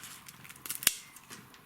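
Scissors snip old, rotten orchid roots in a few quiet, close cuts, with one sharp, distinct clip standing out among softer rustles.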